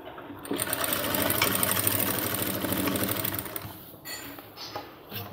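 A sewing machine stitching a cargo half pant runs in a fast, steady mechanical whir for about three and a half seconds, then slows and stops with a few clicks, close up and without talk.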